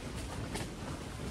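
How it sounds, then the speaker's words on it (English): Strong wind gusting outside a tent during a winter storm in the Texas desert, heard as dense, loud broadband roaring and buffeting with no pauses and no voices. "This is the wind."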